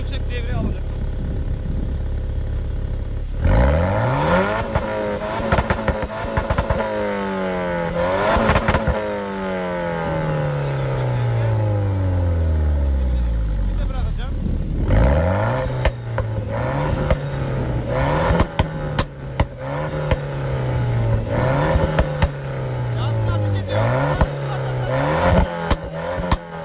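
A Renault Clio 4 RS engine is revved repeatedly to high RPM, rising and falling in long sweeps with crackling exhaust pops, loud and close, while a person talks over it at times.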